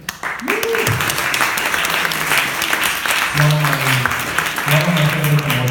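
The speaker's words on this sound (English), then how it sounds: "Can we get a ghostly applause?" A conference audience at Ludicious 2019 applauds, steady dense clapping throughout, with a person's voice briefly rising over it.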